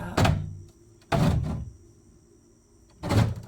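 An antique tobacco tin is pried open and handled, making three loud close metallic thunks and scrapes separated by short quiet gaps.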